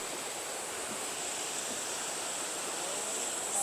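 Steady, broadband rushing roar of Bushkill Falls, a waterfall on a hiking trail, heard close and continuous without a break, with a faint rise in intensity right at the end.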